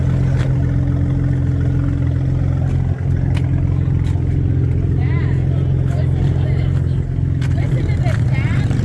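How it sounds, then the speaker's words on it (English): A tuned Ford Maverick idles with a deep, steady exhaust rumble, loud and continuous throughout, with faint talk in the background. "This old Maverick. This is the real Ford Maverick right here."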